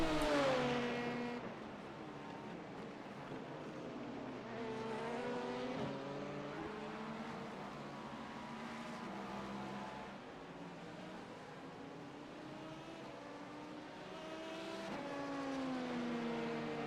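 GT3 race cars on track in an IMSA racing video game, including a BMW GT3 car coming out of the pits; engine notes rise and fall through gear changes, with several cars revving and passing at moderate distance, without speech.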